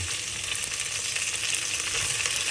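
Tomatoes fry with garlic in a hot pan for sinigang, giving a steady, dense sizzle that holds at an even level throughout, close and unbroken, with no voices.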